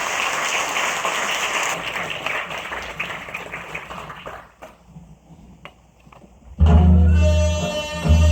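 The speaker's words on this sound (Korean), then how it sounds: "큰 박수로 맞아주시기 바랍니다." An audience at a Guri city council commemorative event claps steadily to welcome a gugak performance troupe, loud, dense applause that thins and fades out before music strikes up suddenly.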